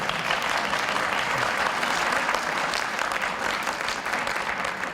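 Sustained audience applause at a university convocation, greeting the UAPB Jazz Ensemble; dense steady clapping from a large crowd fills the whole stretch at an even level without a break.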